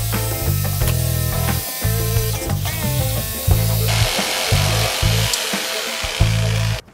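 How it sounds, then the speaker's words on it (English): A jigsaw cuts freehand through a wooden plank in repeated loud, buzzing bursts separated by brief pauses, close to the listener with no talking. "I'm just going to try to freehand, because I'm sure I won't be perfectly square with a jigsaw."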